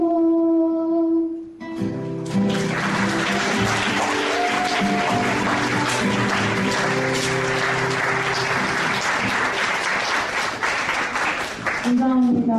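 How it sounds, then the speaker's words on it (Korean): Sustained audience applause at a farewell lecture in a hall, a dense wash of many hands clapping for several seconds, preceded by brief music-like tones and voices at the start and end. "다시 한번 박수 보내주세요"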